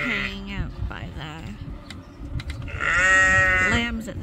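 Several sheep bleat near a farm gate, loud and close, with overlapping calls rising and falling; a person talks over them at times.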